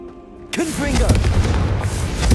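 A Confringo blasting spell explosion in the video game Hogwarts Legacy bursts loudly and suddenly, followed by a rumbling, crackling roar that sustains to the end, with a voice calling out the spell underneath.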